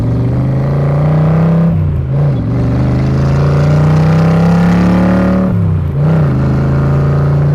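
A loud 1965 Shelby Cobra Factory Five replica engine roars nearby, holding a steady drone with two brief dips as it shifts gears while pulling away.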